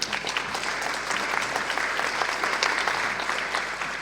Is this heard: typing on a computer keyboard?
no